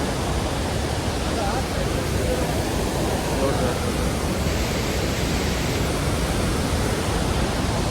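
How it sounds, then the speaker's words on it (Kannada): Released water rushing and flowing near a bridge, a loud, dense, unbroken roar that fills the whole stretch without letting up. "ನೀರು ಏನು ಹೋಗ್ತಾ ಇದ್ದಾವೆ, ಇವಾಗ ಬಿಟ್ಟಿದ್ದಾರೆ ನೀರು"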